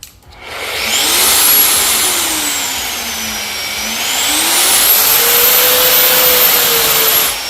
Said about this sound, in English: Increase speed of the sander.